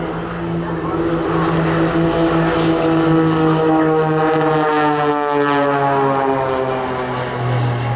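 Aerobatic display team jets flying low and close together in formation at an air display, a loud sustained roar with steady droning tones that shift slowly in pitch as the aircraft pass, with faint voices mixed in.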